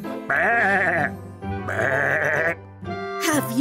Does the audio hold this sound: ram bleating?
yes